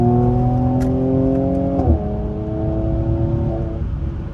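A Mercedes C43 AMG cruising on a highway at night, its engine holding a steady drone of stacked harmonics that dips and shifts pitch once, then settles into a continuous road-and-engine hum, close and loud throughout.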